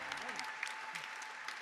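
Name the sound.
applause in church worship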